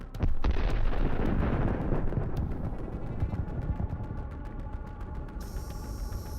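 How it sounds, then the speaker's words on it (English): A huge explosion as a missile launcher blows apart, opening with a loud blast and settling into a long rumbling roar with crackling debris that slowly fades over several seconds. "The missile launcher explodes into hundreds of small pieces."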